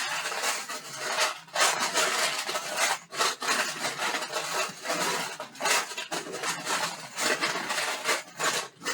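Lubed .38 Special brass cases stirred by hand in a metal bread pan, loud rhythmic metallic rattling and shuffling in repeated sweeps, close and continuous.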